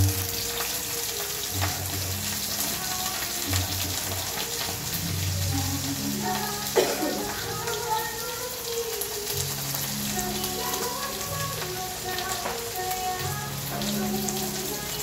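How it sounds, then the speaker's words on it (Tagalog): Dried fish (tuyo) sizzling in hot oil for a kimchi jjigae with spam, a continuous crackling fry with occasional spatters and pops, heard up close. "Ilalagay na natin ang ating pritong tuyo."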